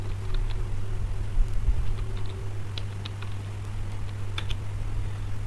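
Someone types a password on a computer keyboard, a scattered run of light, quick key clicks close by over a low steady hum, with no talking.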